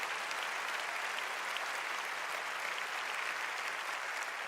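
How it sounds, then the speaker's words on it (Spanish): A church congregation gives a dense, steady round of applause that carries on evenly throughout, sounding fairly distant. "Dale un fuerte aplauso a Jesús."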